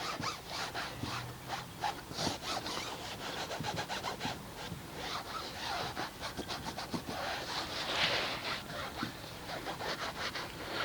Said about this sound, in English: I've got my Mastersons product on here, and I'm just going to rub it in just like that.